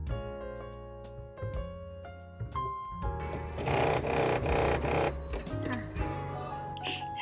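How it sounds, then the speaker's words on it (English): A sewing machine stitches gingham fabric for a Barbie doll dress, a steady mechanical whirring run with short pauses and restarts, loudest in a dense middle stretch, fairly close. "That's sewing."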